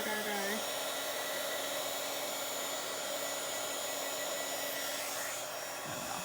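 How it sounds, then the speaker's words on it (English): An embossing heat tool blows steadily to dry gel pen ink on a journal page, a constant close whirring hiss with a faint voice briefly over it. "I've never really tried the drying gel pens with the heating tool."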